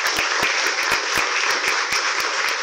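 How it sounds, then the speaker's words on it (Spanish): A crowd at a student graduation ceremony claps steadily and fairly loudly, a dense wash of applause with some sharper individual claps standing out, sustained and unbroken for the whole short stretch. "Fuerte el aplauso para ellos"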